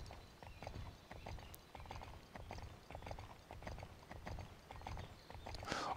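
Horse hooves clip-clop at a steady, even rhythm as a rider travels through a riding-camp video game, a continuous, moderately quiet trotting pattern with no speech.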